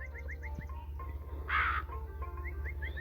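A crow in a video game caws in a short loud burst over a steady low hum and repeated chirping electronic game sounds, no speech.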